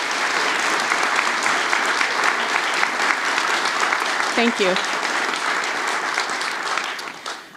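Audience at a college nursing pinning ceremony breaking into sustained applause, many hands clapping steadily, with a brief voice and a short whoop partway through before it fades at the end.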